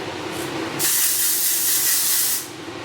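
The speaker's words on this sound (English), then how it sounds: "I like to use a texture spray." An aerosol texture spray hisses onto hair in one steady burst lasting under two seconds, close to the microphone, with quieter room noise before and after.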